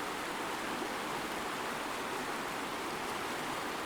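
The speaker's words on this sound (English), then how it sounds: "this stream going here of these rocks, making this like sort of a white noise" A stream flows over rocks outdoors, producing an even, unbroken rush like white noise, steady in level throughout with no talk.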